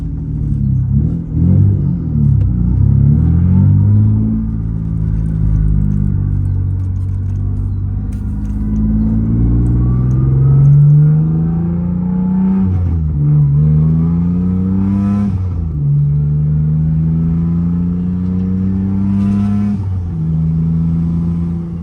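A car with a Mitsubishi MIVEC engine revs repeatedly nearby, loud rising and falling sweeps of engine pitch through several gears with a throaty rumble and no talking.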